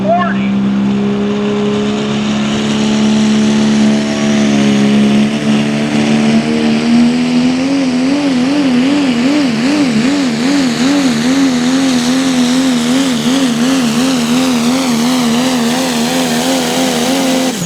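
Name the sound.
1997 Ford Pro Stock Diesel truck pulling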